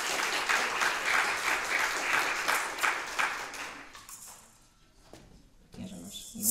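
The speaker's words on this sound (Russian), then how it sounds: "Давайте похлопаем." An audience at a music school wind department's New Year concert claps for a young prize-winning performer, a full burst of applause that lasts about four seconds before tapering off into quiet room sound.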